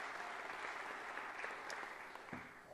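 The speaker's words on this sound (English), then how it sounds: "Give Stuart a warm round of applause." An audience at a lecture gives a warm round of applause, steady dense clapping that fades slightly toward the end, heard alone without voices.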